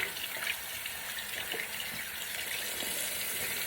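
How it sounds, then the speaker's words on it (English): A bathroom tap runs in a steady, soft gush as water splashes while someone rinses their face, with no talking. "And now I'm going to go in and rinse off."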